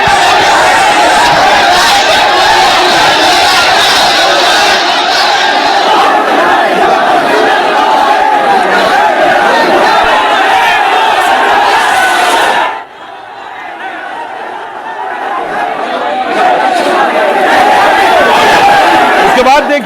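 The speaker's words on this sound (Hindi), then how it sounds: "लेकिन भीड़ लगातार नारेबाजी कर रही थी" A large protest crowd in Bareilly, Uttar Pradesh, chants loudly and continuously. The chanting drops briefly, then swells again.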